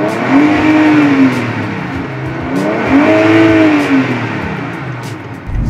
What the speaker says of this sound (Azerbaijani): Bir dənə verim qaz.